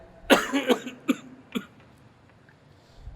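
A burst of several quick coughs close up, followed by a couple of single coughs, then quiet.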